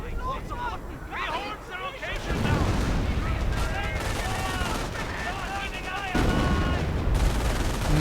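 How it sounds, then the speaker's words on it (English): Rapid bursts of machine-gun fire from a real-time strategy war game, rattling in repeated volleys amid explosions and battle noise, with a commentator talking throughout. "MG firing away madly."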